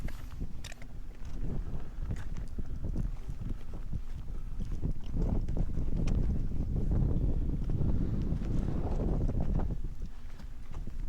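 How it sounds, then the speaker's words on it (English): Strong wind on a steep mountain, heavy low rumbling gusts buffeting the microphone, loud and continuous, swelling in the middle, with no talking. "It's really windy up here."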